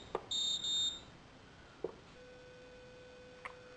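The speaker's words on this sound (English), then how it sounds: "we can turn off the bus alarm" Bus alarm from a bus system app sounding as a short electronic beeping tone near the start, followed by faint ticks and a soft steady tone over quiet room noise.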